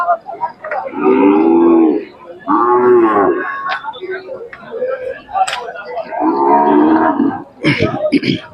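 A Khillar dairy cow moos loudly and close at a Sangola cattle market, three long drawn-out calls separated by short pauses, with someone speaking and some market noise between them.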